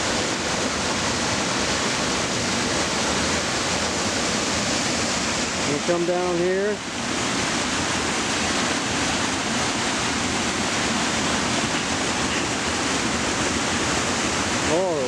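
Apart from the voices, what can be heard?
waterfalls over bedrock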